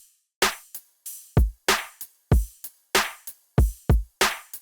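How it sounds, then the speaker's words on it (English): A punchy electronic drum pattern at a moderate tempo: deep kicks and sharp snare hits alternate in a steady, looping rhythm with clean silences between beats. "The drums sound like this."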